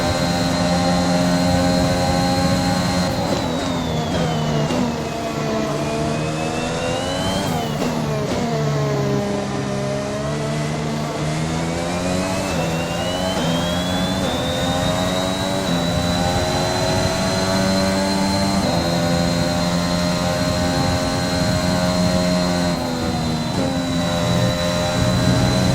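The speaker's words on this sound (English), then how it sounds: "Using a Honda engine, by the way, in this F1 car." A Honda-powered Formula 1 car in the F1 2021 racing game screams along, its high engine whine rising and falling in pitch through gear changes and corners, loud and continuous for about 26 seconds.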